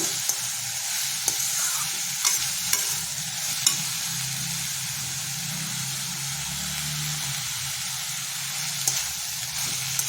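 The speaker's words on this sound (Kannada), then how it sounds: "ಉಪ್ಪು ಹಾಕ್ತಾಯಿದ್ದೀನಿ ಸ್ವಲ್ಪ ಕರಿಬೇವು ಹಾಕ್ತಾಯಿದ್ದೀನಿ ಇದನ್ನೆಲ್ಲ ಚೆನ್ನಾಗಿ ಕಲಸ್ಬಿಟ್ಟು" Radish dry curry stirred in a pan with salt and curry leaves: continuous close frying hiss broken by a few sharp clicks and scrapes of a spoon against the pan, steady throughout with no talk.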